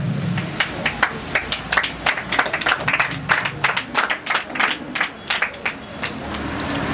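A ceremony audience at a women's association event in Padil, Mangaluru claps in a steady, dense burst of hand claps lasting throughout, moderately close with no talk over it.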